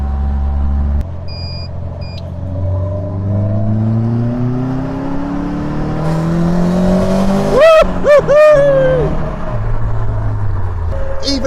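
Caterham Academy race car, road-legal, driven on a dual carriageway in slightly tricky conditions, its engine droning and rising through the gears up close, with a sharp rev burst midway and steady road and wind roar throughout.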